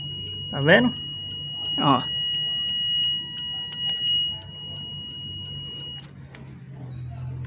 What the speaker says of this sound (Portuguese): Agora ele vai ter que dar o bipzinho, ó.